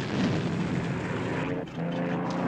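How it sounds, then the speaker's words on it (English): A damaged propeller airplane engine drones loudly in flight in a TV action scene, a steady rough roar that dips briefly midway and then returns. "Where'd you get this plane, Face?"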